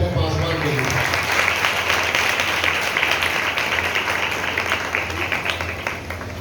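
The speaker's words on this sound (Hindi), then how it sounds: "तो जोरदार तालियां बजा के अपने पासवान के लिए।" A church congregation at Eternal Grace Church applauding during a sermon: dense, steady clapping from many hands, close and loud, that gradually thins and softens toward the end.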